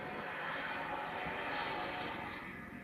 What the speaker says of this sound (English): Very loud airplane.